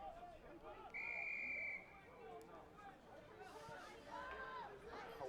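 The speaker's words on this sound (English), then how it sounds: "A whistle from the other end of the field." A referee's whistle at a boys' high school soccer game sounds one long, fairly loud blast from across the field, rising over steady crowd chatter and the scuffle of play.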